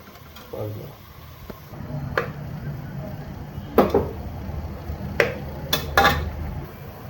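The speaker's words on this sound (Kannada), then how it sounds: "ಟೊಮೊಟೊನ ನೀಟಾಗಿ ಬೇಯೋವರೆಗೆ ಸ್ವಲ್ಪ ಸೌಟನ್ನ ಅಳಾಡಿಸ್ಕೊಂಡು ಬೇಯಿಸಿ." Ladle stirring tomatoes in a cooking pot on a stove, scattered metallic scrapes and clinks against the pot with a low sizzle underneath, a few sharper knocks toward the end.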